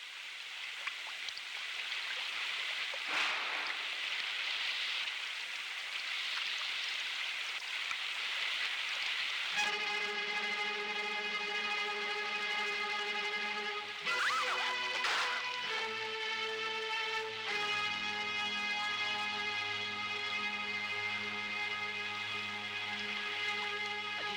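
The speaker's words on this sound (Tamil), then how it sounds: "இல்லைங்க, மழை ரொம்ப அதிகமா இருக்கு." Heavy rain pours steadily on surfaces in a dense, constant wash, and partway through a sustained tonal music-like sound rises over it.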